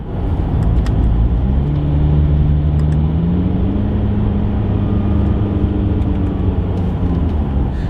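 A Jaguar F-Pace SUV with a paddle-shift gearbox drives along, its engine a steady loud drone that rises and falls in pitch as gears change, with road and cabin noise and no talk.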